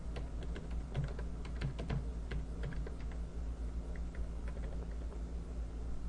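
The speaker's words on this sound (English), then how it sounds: "If I can type." Fingers tapping a computer keyboard while logging in to an online parts store, quick irregular bursts of close, crisp keystrokes over a low steady room hum, no talking.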